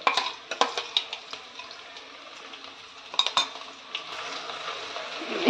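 Ground garlic and ginger paste goes into a pan of reddening onions and is stirred with a spatula, giving scattered clinks and scrapes over a soft sizzle, fairly quiet with no talk.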